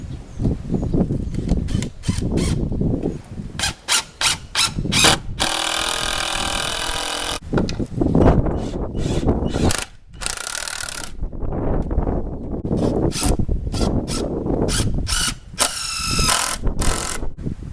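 A window is cranked into its frame, giving repeated ratcheting clicks in quick bursts with longer grinding, rubbing stretches between them, loud and close, with no voices.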